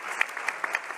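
Audience applause for a guest speaker at a French energy-strategy discussion event, a short burst of scattered hand claps with a few sharper individual claps standing out.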